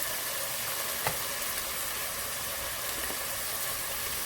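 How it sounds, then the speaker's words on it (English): Chickpeas and spices such as cardamom, cinnamon and allspice fry in a pan with a soft, even sizzle and a single faint tap partway through. "Then I'm gonna add the chickpeas, and then I'm gonna add my spices."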